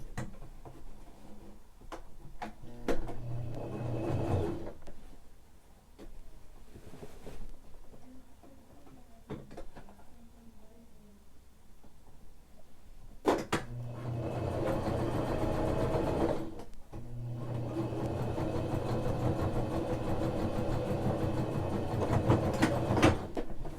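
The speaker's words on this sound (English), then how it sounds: "And with the machine, I'm going to sew it down." A home sewing machine stitches down a trouser seam being tapered from crotch to knee, its motor running in two bursts of steady rhythmic whirring and needle clatter, separated by a quieter pause with handling noise, fairly close and not loud.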